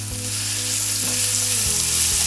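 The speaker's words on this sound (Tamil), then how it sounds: "இதையும் சேர்த்து நல்லா வதக்கலாம்." Chopped tomatoes sautéing in a frying pan for chana masala, a steady close sizzle with a faint hum underneath and no talk.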